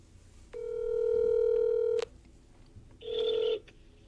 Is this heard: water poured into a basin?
no